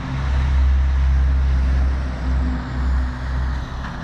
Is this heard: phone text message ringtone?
no